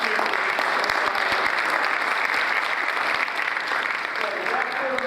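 Applause from the audience at a school board of education meeting, steady, dense clapping from a large crowd filling the whole stretch at even loudness, with no voices on top.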